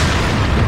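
A loud, close explosion in Resident Evil 4 hits as a dense, rumbling burst of noise, filling the whole short moment with no talk over it.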